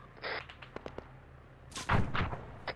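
Mortar rounds land during an Arma 3 military simulation assault on an insurgent training ground: a series of sharp thumps and cracks, then a heavier close blast near the end, with no talk over them.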